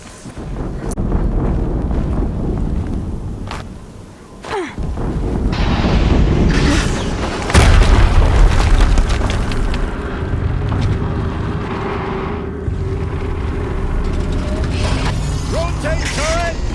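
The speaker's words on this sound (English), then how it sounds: "Explosion." An explosion in the Horizon Zero Dawn video game erupts as a heavy, rumbling boom among roaring, wind-like game noise and mechanical clatter, with a voice speaking over the scene.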